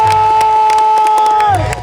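A crowd at a motorbike show cheers for a rider after a backflip trick. The cheering is loud and sustained, with a bright steady tone running over it and a short swell near the end.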